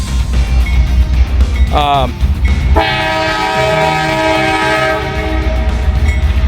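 A coal train locomotive, shiny and freshly built or rebuilt, passes at St. Bernard, its loud horn blaring in a long sustained blast over heavy rumbling engine noise, with a brief rising whistle-like tone just before.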